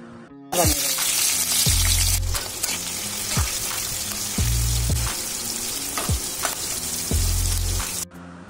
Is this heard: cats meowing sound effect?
no